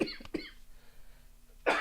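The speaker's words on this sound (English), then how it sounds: "Coughing." A person coughs close up, two quick coughs followed by a pause, then another harsh cough at the end.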